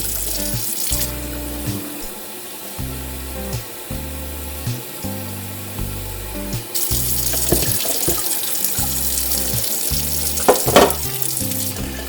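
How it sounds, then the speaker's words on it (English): Cool tap water runs steadily from a faucet into a pitcher for sweet tea, a continuous splashing rush that swells louder partway through, with a few clinks near the end. "Run a little cool water."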